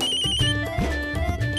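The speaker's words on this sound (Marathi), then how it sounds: "दाजींचा फोन आहे" A mobile phone ringtone plays for an incoming call in a Marathi TV serial scene, a looping melodic tone with repeated pitched notes, clear and fairly loud, with no talking over it.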